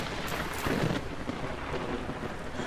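A low, steady rumble of thunder rolls through a stormy scene in the survival game Vintage Story, with a slight swell near the start and a constant broadband wash like rain underneath.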